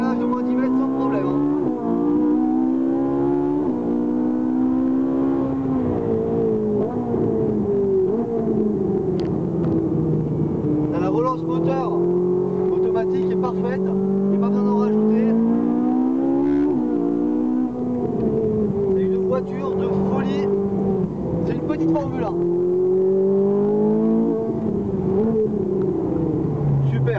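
A Ferrari 458 Italia with its 570-horsepower engine pulls hard on a race track, a loud continuous engine tone rising and falling through the gears, with a voice talking over it throughout.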